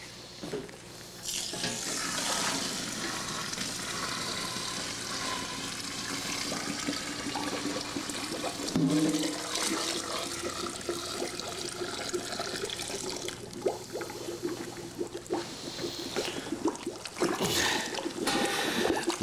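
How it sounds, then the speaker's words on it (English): Water poured into a mash tun of grain for all-grain home brewing, a steady rushing pour running close and continuous throughout with no talk. "Okay, let's toss in the water."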